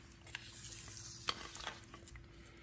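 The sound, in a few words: stirring melted chocolate mixture into Chex cereal and cashews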